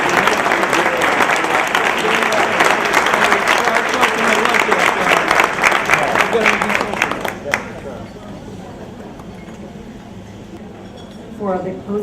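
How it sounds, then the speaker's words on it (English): A crowd at a Sodexo scholarship award ceremony in Guatemala applauds the company's employees with loud, sustained, busy clapping for about seven seconds, then drops to a quieter room murmur, with a voice speaking near the end. "A big applause for them, please."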